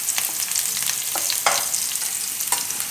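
Turmeric and asafoetida hitting hot oil produce a close, bright, continuous sizzling hiss with a few sharper crackling bursts.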